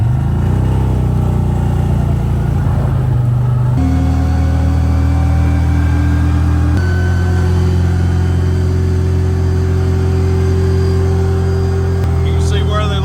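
A CFMOTO ZFORCE UTV drives down an icy, salted street, its engine droning loud and steady close by, with gear-related pitch shifts partway through and a voice talking over it.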